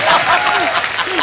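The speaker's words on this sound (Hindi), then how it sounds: "इनके लिए जोरदार तालियां" Studio audience applause on a Hindi television comedy show, a dense, steady wash of clapping that fills the whole short moment, with a voice faintly mixed in.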